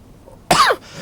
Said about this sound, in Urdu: خشک کھانسی ہوگی جس سے مجھے اس وقت ہو رہی ہے